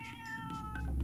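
A pet cat meowing, one drawn-out tonal meow close by, with a low rumble beneath and no speech.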